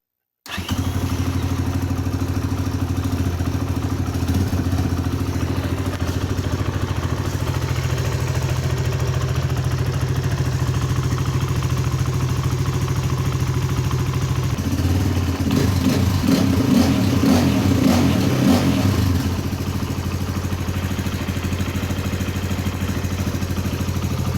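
A KOVI 300 motorcycle with a freshly repaired clutch and new release bearing runs steadily close by, its engine idling with a low throb before a brief rev around the middle, then settling back to idle, with no talk.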